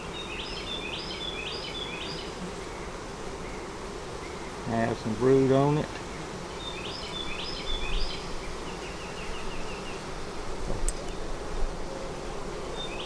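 Honey bees hum steadily around an open double-deep hive with a honey super, their buzz continuous beneath a nearby voice speaking briefly.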